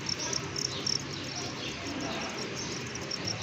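Farmed crickets in a rearing setup chirp continuously, a dense high-pitched trill running steadily throughout over a faint background hum.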